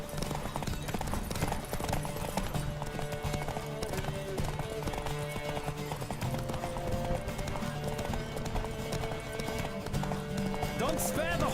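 Hooves clip-clop in a fast rhythmic gallop from a horse in The Witcher 3, continuous and close, with a whinny and a voice talking over the running hoofbeats.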